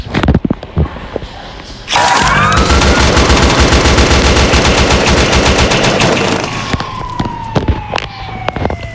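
Sustained automatic gunfire aimed at police in a video game, a dense rapid burst lasting several seconds with sirens wailing alongside, then trailing off into scattered shots.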